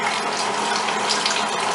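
Wine for a homemade sauce pours steadily into a pot on the stove, a continuous close splashing gush with no break.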